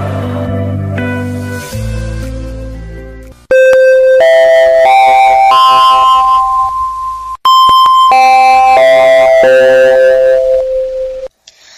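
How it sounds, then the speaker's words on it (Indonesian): A school's electronic bell chimes to mark the start of class, playing a loud, clear melodic tune of sustained tones, with a brief pause partway through before the tune resumes. "bel tanda masuk telah berbunyi"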